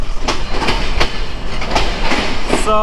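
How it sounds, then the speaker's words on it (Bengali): Chilahati Express rolling into Birampur railway station, a steady loud rumble with rhythmic clickety-clack wheel beats on the rails and a brief tonal squeal near the end as it slows. "আমাদের চিলাহাটি এক্সপ্রেস ট্রেন এখন বিরামপুর রেলওয়ে স্টেশনের এক নং প্ল্যাটফর্মের এক নং লাইনে প্রবেশ করলো"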